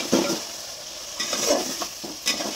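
Fresh large fish going into a pan of fried spice paste cooked with a little water, a close sizzle with a few scraping stirs and clatters over about two seconds, no one talking.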